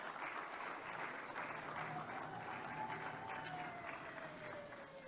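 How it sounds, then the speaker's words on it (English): Sustained audience applause at a conference on youth employment in food systems and agriculture, a continuous wash of clapping with a high ululating cry gliding through the middle. "Let's give him a big round of applause."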